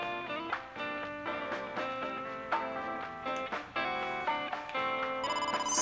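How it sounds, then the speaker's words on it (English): A phone rings in the video game AI: The Somnium Files, a steady, repeating electronic ringtone heard up close and alone, continuing throughout. "Oh, phone call."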